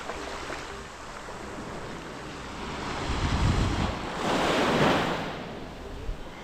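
Waves wash onto Cat Co beach on Cat Ba Island with a steady surf rush and wind buffeting the microphone. Two louder surges of breaking water stand out in the second half.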